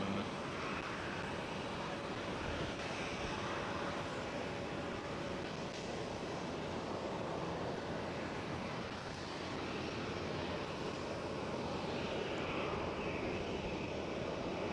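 Jet airliner engine roar at Schiphol Airport, Amsterdam, a steady broadband rumble that holds unbroken through the whole stretch, moderately loud and distant, with faint outdoor wind and no talking.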